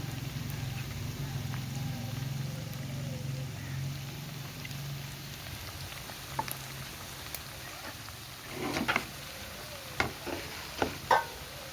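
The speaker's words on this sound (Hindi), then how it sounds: "एक जगह प्याज भून रही हूँ" Onions fry in a pan in a home kitchen, giving a steady, close sizzle with occasional scraping and clinking stirs while someone talks.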